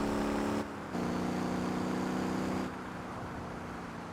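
A car engine in the driving game Motor Town runs at a steady hum with layered tones, dropping briefly near the start and settling to a quieter, even drone for the last second and a half.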